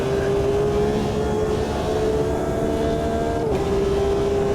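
Honda NSX race car engine in a racing video game drones steadily at a high, sustained pitch, with a brief dip in tone as it shifts, loud and continuous with no talking.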